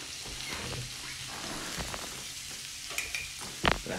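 Onions and garlic fry in rendered bacon fat in a pan, giving a steady soft sizzle with crackles and stirring scrapes and a louder clatter near the end.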